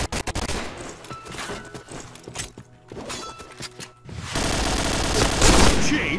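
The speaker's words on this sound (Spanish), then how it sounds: "Disparen bala por bala." Rapid AUG rifle fire in the shooter game Point Blank, dense bursts of gunshots crowding together, pausing briefly and then resuming in a louder, continuous volley.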